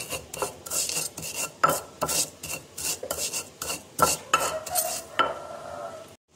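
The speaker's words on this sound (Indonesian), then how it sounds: "bawang merah, bawang putih goreng yang kita sudah tiriskan, kita akan ulek" Rhythmic scraping and grinding of fried shallots and garlic in a mortar, repeated strokes at a steady pace, close up with no talking.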